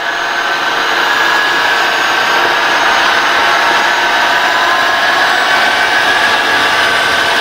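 A Tineco Floor One S7 steam mop vacuum runs loud and close, sucking up spilled ketchup and water from a floor with a steady, unbroken whirring motor drone and a thin high whine, with no talk.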